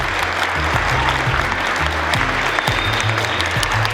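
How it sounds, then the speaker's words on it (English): A school audience gives faculty and staff a big round of applause, a dense, continuous burst of many hands clapping close and loud. "help me in giving them a big round of applause"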